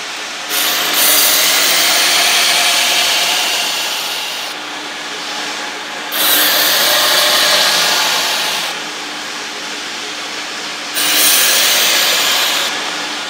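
A knife blade is sharpened to a convex edge in long, steady grinding passes: a loud, close hissing rasp that swells three times with short quieter gaps between.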